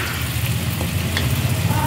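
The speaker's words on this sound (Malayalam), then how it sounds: "നല്ല ചൂടുള്ള വെളിച്ചെണ്ണയിൽ ഇട്ടിട്ട് പൊരിക്കാം" Onion vadas deep-frying in hot coconut oil give off a steady, close bubbling sizzle with small crackles, loud and continuous, with no one talking.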